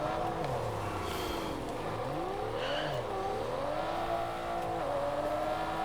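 Engine of a car driven in the racing game Test Drive Unlimited Solar Crown, a steady droning hum that rises and falls with gear changes, loud and continuous without talk.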